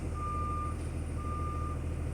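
A school bus backing up in a straight line during a Class B CDL road test, its reversing alarm sounding two steady, evenly spaced beeps over a constant low engine rumble.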